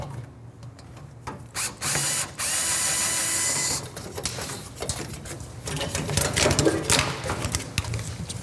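A ratchet works the lower bolts out of the valance on a 1971 Roadrunner with a 440-6 engine, heard close up as bursts of clicking and whirring mixed with clattering workshop handling noise.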